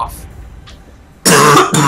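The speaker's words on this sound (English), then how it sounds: "Made myself cough." After a quiet stretch, a loud, harsh cough-like burst from a video game robot erupts near the end, gravelly and strained like throat clearing, cut off briefly then resuming.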